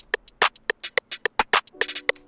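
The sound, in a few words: typical snare drum pattern in a beat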